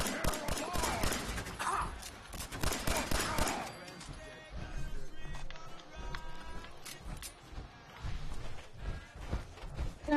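Pistol fired in rapid succession in Fallout 4 during power armor combat: a fast, irregular string of sharp gunshots mixed with other weapon fire and game noise, with speech over parts of it.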